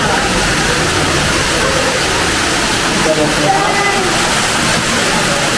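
Water rushes steadily from a waterfall at a Cox's Bazar tourist spot, a dense, continuous roar that stays constant throughout, with faint voices mixed in.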